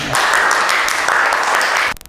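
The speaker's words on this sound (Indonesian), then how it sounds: "Beri tepuk tangan buat teman kalian." Students in a classroom applaud a classmate, a steady dense clatter of many hands at even loudness that stops abruptly at the end.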